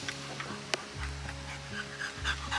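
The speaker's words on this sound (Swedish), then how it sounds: "Min systers hund." A small dog, a sister's pet, pants steadily up close in quiet indoor surroundings, a soft rhythmic huffing with a faint low hum behind it.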